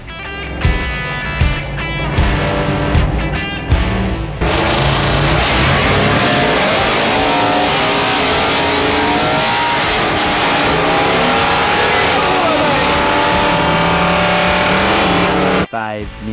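A twin turbo Ford XY Falcon wagon, a no-prep pro street car, revs hard: a few short blips give way to a loud, sustained, roaring engine note that holds for about twelve seconds before cutting off abruptly.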